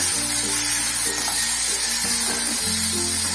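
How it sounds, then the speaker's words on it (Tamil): Chickpeas go into a pan of sautéed onions and spices for sundal, giving a steady, close sizzle and frying crackle that holds evenly throughout, with no talk. "இப்போ நம்ம இதை எடுத்துக்கிட்டு கொண்டக்கடலை இதில் போட்டோங்க"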